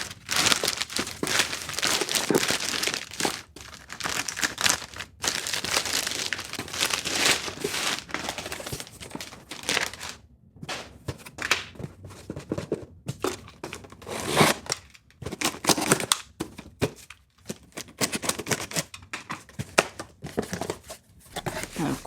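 Hands unboxing a Hat Club hat package, crinkling and rustling tissue paper in close, continuous bursts with short pauses, plus occasional tearing and crumpling sounds and some talking.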